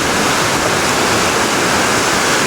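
A Carpathian river near Yaremche swollen after rain, rushing in a loud, constant roar of churning water close by, with no talk.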